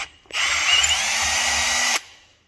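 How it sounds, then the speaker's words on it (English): A power drill whines steadily at high pitch for under two seconds, drilling into metal, close and loud, then spins down and stops. "So that's the drill bit that comes with the kit. So you drill it out first."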